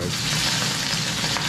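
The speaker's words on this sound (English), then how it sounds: "Fry some onion." Steady, close sizzling of onions frying in hot oil, a continuous crackling hiss with no talking.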